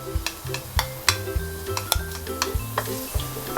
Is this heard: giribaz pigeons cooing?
no